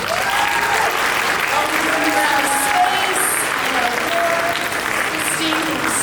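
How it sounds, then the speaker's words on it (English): Dense, sustained audience applause at a Nanaimo business awards evening, a crowd clapping steadily for several seconds while a voice speaks over it. "Big round of applause to all of our volunteers."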